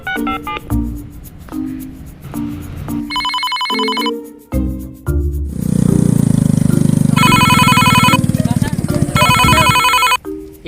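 A phone call ringing in a Sundanese comedy sketch: repeated electronic ringtone bursts sound under and between talk, with a motorcycle engine rumbling in the middle stretch.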